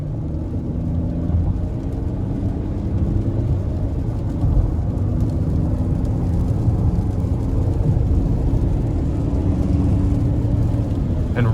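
A 2020 Toyota Highlander LE accelerates in sport mode on the interstate, its engine droning loud and steady under heavy road and wind rumble with no break.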